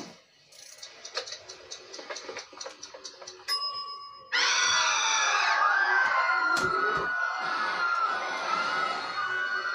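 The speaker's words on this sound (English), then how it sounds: "screams from your favorite horror movies" A cartoon contraption called the Scream Machine blasts horror-movie screams: after quick ringing chimes and a brief tone, a loud, sustained wall of shrieking voices erupts and keeps going.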